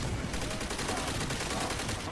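Rapid paintball gun fire from a video game, a continuous stream of quick pops running steadily through the whole stretch at an even, fairly loud level.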